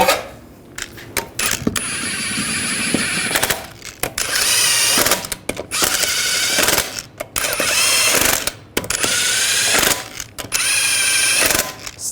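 A ratchet or impact tool tightens wheel lug nuts on a 2007-2013 Chevrolet Silverado 1500 in a series of loud, close bursts of clicking and whirring separated by short pauses.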